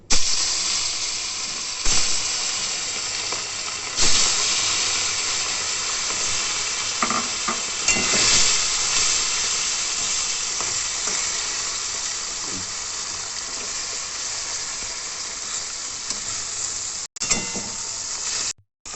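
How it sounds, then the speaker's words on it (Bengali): Small puti fish fry in hot oil with a loud, dense, continuous sizzle and hiss, with occasional sharper crackles and spatters throughout and a brief cut near the end; no one speaks. "তেল গরম হয়ে গেছে, এবার মাছগুলো আমি ভেজে নেব।"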